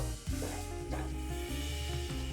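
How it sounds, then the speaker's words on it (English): Ground beef, broken into tiny pieces, browns in a skillet with a steady close sizzle and occasional spatula scrapes and stirs, running continuously without talk. "we're just going to continue to cook this until the ground beef is browned"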